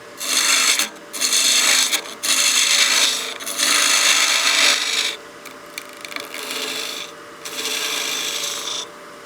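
A spindle gouge pares down a spinning wooden bat house ornament on a lathe, giving loud rasping scrapes in four or five long passes with short pauses, ending in softer, lighter cuts.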